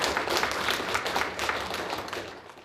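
Steady applause from an audience at a televised event, many hands clapping together in a dense, even wash that continues throughout before tapering slightly at the end.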